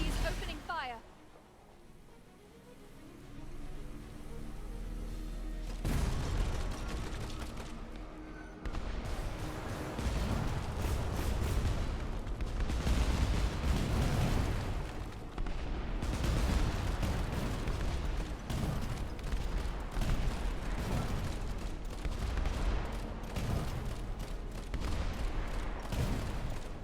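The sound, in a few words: enemy airship gunfire in the video game Airship: Kingdoms Adrift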